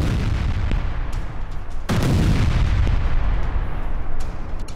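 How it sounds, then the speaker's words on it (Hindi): Artillery and gunfire from a multiple rocket launcher bombardment in wartime rumble continuously, with a sharp heavy boom near the two-second mark and scattered cracks and pops over a dense roar. "MLRS और गोलीबारी से मची तबाही की ये तस्वीर देखिए"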